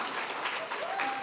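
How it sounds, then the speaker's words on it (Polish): Audience applause at a gospel concert in Radków, a dense patter of clapping hands heard at moderate distance, steady across the whole moment, with a faint murmur of voices. "A tutaj brawa!"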